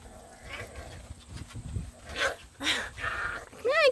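French bulldog puppies, eight weeks old, play together, giving small yips, whimpers and short high barks in quick, scattered bursts at close range over soft rustling.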